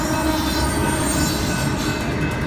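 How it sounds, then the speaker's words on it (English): A train rolls at full speed and slams through a barrier during a rail accident, giving a loud, continuous roar of heavy rumbling and metallic scraping and squealing that holds steady throughout, with no voices. "The train slams into the barrier at full speed and smashes it to pieces."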